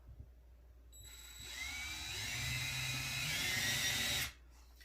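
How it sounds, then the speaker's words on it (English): A power drill whirs steadily for a few seconds, rising and holding a high whine before cutting off abruptly, with a faint ringing tone above it. "I can tell my drill bit's off a little, so I'm going to fix that."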